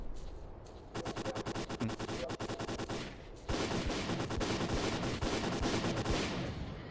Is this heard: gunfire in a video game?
yes